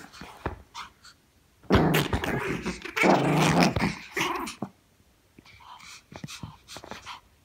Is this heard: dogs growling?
yes